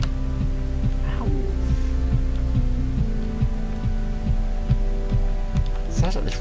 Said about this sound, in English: It sounds like this rock has got a beating heart.